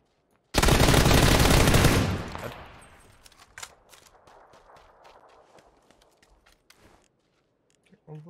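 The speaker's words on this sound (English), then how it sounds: "One player just sniped at me." A sniper rifle fires in a video game, a sudden loud crack followed by a long rolling echo that fades over a couple of seconds, then scattered faint clicks and footstep-like taps.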